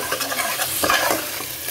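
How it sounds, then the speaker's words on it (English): Food frying in a pan with black pepper and thyme, for homemade salmon or tuna puffs: a steady close sizzle with a few stirring scrapes. "And let me fry up this."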